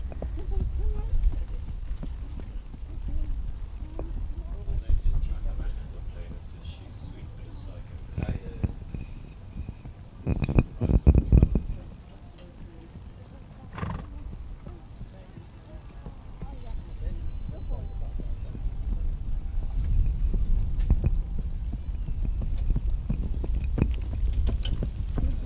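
A pony's hooves clip-clop steadily at a trot during an intro pony class carriage-driving competition around a cones course, under a low murmur of voices and outdoor background noise.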